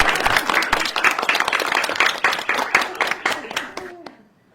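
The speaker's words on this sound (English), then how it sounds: "Bravo. Clap, clap, clap." An audience claps at a spiritual teaching session, a loud, dense burst of applause that holds steady for about four seconds and then ends abruptly, leaving a brief fading tail.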